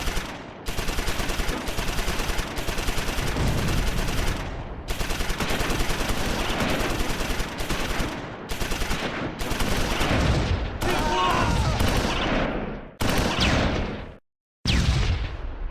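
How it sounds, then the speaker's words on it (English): A World War II battle in Close Combat 4 at Wiltz, December 1944, with loud, dense gunfire: rapid machine-gun bursts and rifle shots rattling almost without pause, broken by a few brief gaps and one short silence near the end. "A brutal firefight erupts."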